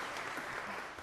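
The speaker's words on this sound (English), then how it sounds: "Yeah, we can clap." Congregation clapping at a Methodist church worship service in Denver, a brief dense burst of applause at moderate level.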